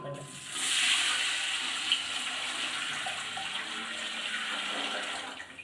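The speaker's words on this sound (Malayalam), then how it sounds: "നമുക്ക് ഇനി വെള്ളം ഒഴിച്ചു കൊടുക്കാം" Water pours steadily into a cooking pot of rice for ghee rice, a continuous splashing gush that swells quickly and keeps flowing at an even level.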